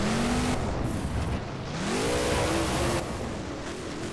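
Truck engine in BeamNG driving over obstacles such as a train and vans, revving up and down with gliding pitch changes against heavy continuous rumble, close and loud throughout.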